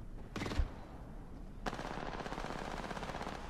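Automatic weapon fire in Apex Legends, a short burst followed by a longer rattling volley of rapid shots, loud and close with nothing else over it.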